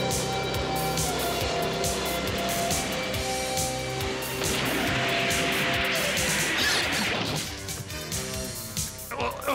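Loud cartoon crash as a villain's ship propeller is smashed underwater, a dense run of metallic banging and thwacking that fills the whole moment before tailing off into a rumble.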